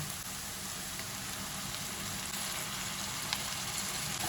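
Ginger garlic paste fries with browned onions in a pan for chicken bhuna masala, a continuous soft hissing sizzle, steady and even throughout with a faint stir near the end.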